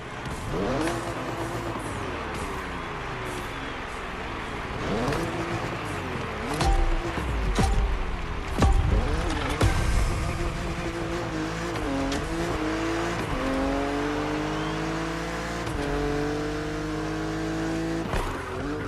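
A BMW Z4 driving on the roads of Maui in The Crew Motorfest, with a loud, close engine that revs and sweeps up and down in pitch through gear changes, plus bursts of tyre and mechanical noise and no voices.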